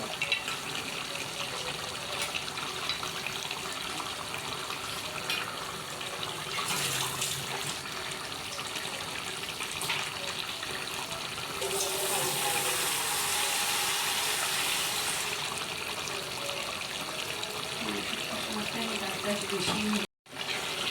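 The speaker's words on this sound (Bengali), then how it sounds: "ডালটা খুব ভালো করে ধুয়ে নেবেন কিন্তু" Lentils are washed under a running tap, giving a steady close rush of water splashing into a sink with occasional swells in intensity, continuous throughout.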